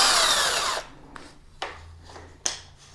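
A power tool whirs steadily on the bolts of a Veteran Patton-S electric unicycle during a tire change, then cuts off, followed by a few sharp metallic clicks and taps in a quiet room.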